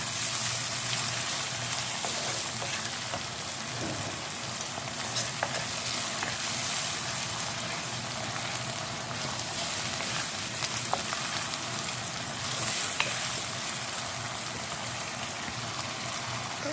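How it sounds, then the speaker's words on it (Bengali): Onions and ginger-garlic paste sizzle steadily in a hot pan for prawn and eggplant curry, with a constant frying hiss and occasional scraping stirs, close and continuous with no talk. "আদা রসুন বাটাটা দিয়ে যখন আদা রসুনের গন্ধটা চলে যাবে, ভালো করে একটু ভেজে নেবো"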